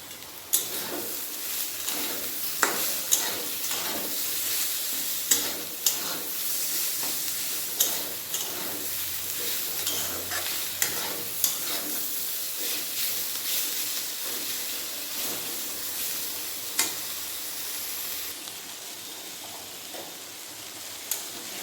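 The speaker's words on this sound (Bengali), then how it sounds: "কুঁদরি আলু ভালোভাবে ভাজা হয়ে গেছে সিদ্ধও হয়ে গেছে টমেটোটাও গলে গেছে" Ivy gourd and potato with chopped tomato frying in a pan, a continuous soft sizzling hiss with regular light clicks of stirring, close and steady.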